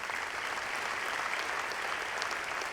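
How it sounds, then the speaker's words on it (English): A fairly distant crowd claps at a graduate commencement in May 2014, the steady applause filling the room with no voices over it. "Give them a round of applause"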